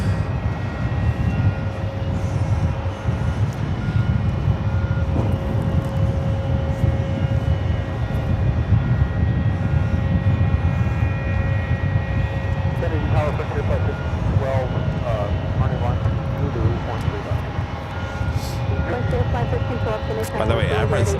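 An Emirates Airbus A380 departing JFK for Dubai gives a steady, loud jet roar that holds for the whole stretch, with a faint tonal whine threading through it.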